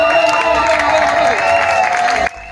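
A crowd in Matadi cheers and shouts to welcome a politician, a dense, loud wall of voices and applause that stops abruptly.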